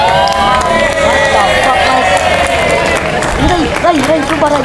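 A live audience breaks into loud applause and cheering at a motivational show, a dense crowd roar mixed with shouts and babble that holds steady throughout.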